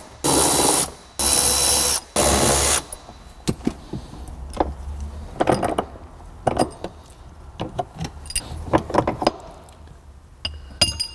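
Removing T30 fasteners and brackets from the floor of an R56 Mini Cooper, three loud rapid mechanical bursts open the sequence, followed by scattered close clicks, knocks and rattles of tools and metal parts.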